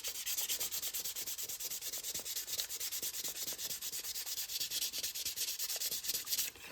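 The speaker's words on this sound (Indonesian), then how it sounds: "bagian ini kita amplas sedikit miring seperti ini" Sandpaper rubs steadily at an angle across the edge of a paper airfoil rib template for a rubber-powered model plane, a continuous close scratchy sanding with quick repeated strokes throughout.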